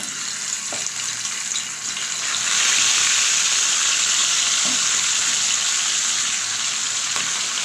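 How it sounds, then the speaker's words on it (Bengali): Pieces of soft bhola fish fry in hot oil in a frying pan, a loud steady sizzle that swells as more fish goes in and stays bright and continuous, with a few faint clinks. "মাছগুলো এখন ভেজে নিই গরম হয়ে গেছে তেল"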